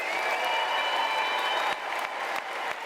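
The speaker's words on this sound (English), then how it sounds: "May we give them a round of applause" Audience applause for new doctoral graduates at a university graduation ceremony, a steady dense clapping that fills the hall throughout, easing slightly toward the end.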